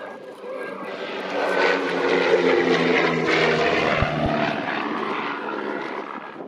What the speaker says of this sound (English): a Gemini with Gypsy Major engines